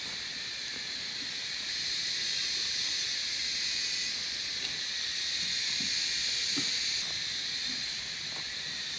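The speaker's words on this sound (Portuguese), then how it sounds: "As cigarras hoje estão numa cantoria." Cicadas sing in a steady, dense shrill drone outdoors near a wood-stove shed, continuous and fairly loud for the whole stretch with no talking.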